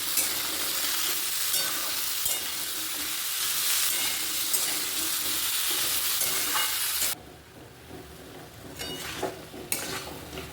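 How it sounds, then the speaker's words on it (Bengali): Elephant foot yam sautés with ginger, cumin and tomato in a home kitchen pan, a loud continuous sizzle with stirring that drops abruptly to quieter bubbling and occasional utensil clinks, with no talk. "ওলটা ভালো করে কষিয়ে নিয়েছি, নিরামিষ তো, আদা জিরে এসব দিয়ে, টমেটো, জল দিয়ে দিলাম।"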